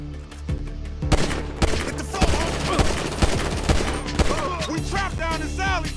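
Rapid bursts of gunfire ring out in the video game GTA V, loud and close with repeated sharp shots over a constant game backdrop and some faint in-game voices.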